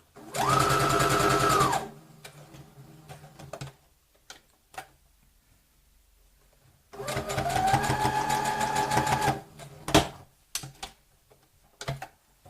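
A sewing machine stitching a fabric pyramid pouch runs in two loud, fast-chattering bursts of about two seconds each, separated by quiet pauses with small clicks and handling ticks.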